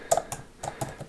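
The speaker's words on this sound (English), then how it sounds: "So if I'm typing" Keystrokes on an Apple Magic Keyboard for iPad Pro, five or six crisp, close clicks tapped out in an uneven quick rhythm over about a second, with no voice.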